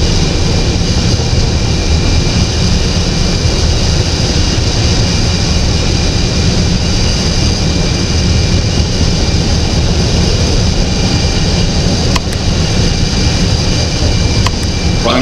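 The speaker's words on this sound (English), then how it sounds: "Number one, engine, start." Continuous loud roar of Airbus A380 jet engines spooling up in a mobile flight simulator game, a steady droning whine with a broad rumble and no voices.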